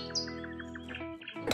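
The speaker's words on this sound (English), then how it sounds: "Stupid bird!" Outside a house, a bird gives a quick series of bright, repeated chirps over a low steady hum, followed by a short burst of noise at the end.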